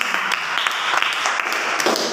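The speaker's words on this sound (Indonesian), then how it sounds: "kita kasih tepuk tangan untuk kelompok demokrasi" Students in a classroom clap for a group that just presented, a brief burst of dense, fairly loud applause filling the whole moment.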